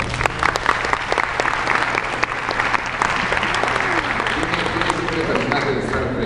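Dense, loud audience applause rises at a conference event in Mexico with animator Robert Valley, sustained clapping from a large crowd with some faint voices mixed in.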